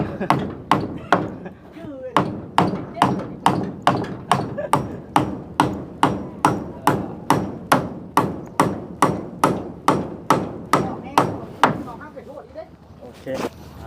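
Steady, regular hammer blows, about two per second, striking sharply and close by, with a few voices faintly under the pounding before it stops.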